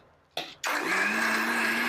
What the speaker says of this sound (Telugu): మళ్ళీ మిక్సీ పెట్టేద్దాం అనమాట